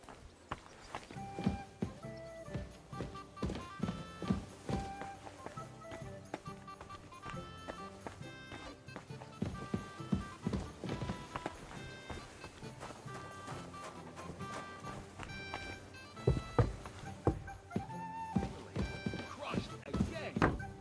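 Horse hooves clip-clop along in Kingdom Come: Deliverance 2, a steady walking rhythm of hoof strikes mixed with game music and ambient sound, moderately quiet throughout.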